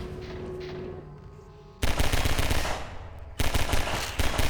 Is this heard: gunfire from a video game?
yes